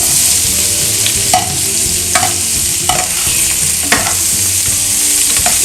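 Onions and garlic frying in butter and oil for butter chicken, a loud, constant sizzle close by, punctuated at regular intervals by the scrape and knock of a spoon stirring the pan.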